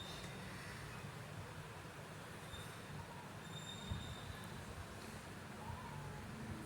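Busy metro station ambience during morning rush hour, with a steady low rumble of trains, faint high squeals of wheels and a murmur of crowd noise throughout.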